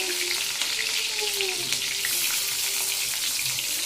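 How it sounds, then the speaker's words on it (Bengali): Food frying in oil gives a steady, close crackling sizzle that runs the full length, with faint background tones and no speech. "এটা ভাজা হোক, তারপরে আবার দেখাইতেছে একবারে।"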